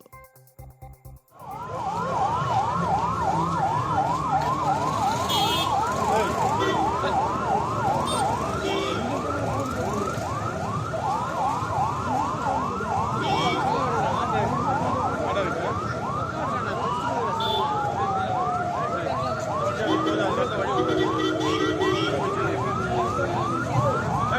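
An ambulance siren wails continuously at close range as the vehicle sits stuck in a crowded jam, its rapid repeating cycle loud and steady throughout after a brief quieter start, with a long falling tone near the end.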